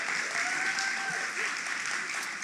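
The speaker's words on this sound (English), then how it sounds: "Give them a big round of applause for that." An audience at an awards ceremony, the 13th Annual Indie Series Awards, claps in sustained, even applause that sounds somewhat distant and soft.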